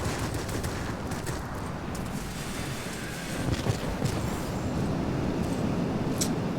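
Rockets and gunfire from an IL-40 attack aircraft in World of Warplanes, a dense, continuous rumbling barrage of rapid shots and blasts that swells louder partway through, with wind-like noise underneath.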